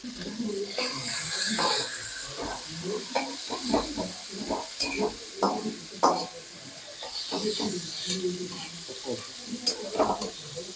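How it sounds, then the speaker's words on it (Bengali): Onions frying in hot oil in a home kitchen where ginger and garlic paste wait nearby, a steady sizzle with repeated stirring scrapes throughout, and a voice speaking now and then over the cooking. "বাবা পেঁয়াজটা ভেজে নি।"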